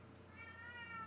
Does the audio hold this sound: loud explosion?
no